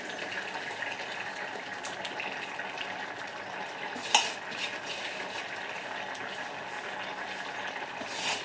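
A pan of Mangalorean-style clams sukka sizzles steadily as grated coconut goes in, with one soft thud midway over the constant close frying hiss.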